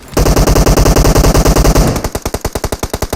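Sustained automatic gunfire in PUBG Mobile, a loud rapid burst of evenly spaced shots that shifts into sharper, slightly slower cracks near the end, with no talking.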